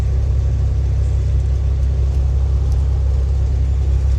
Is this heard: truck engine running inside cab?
yes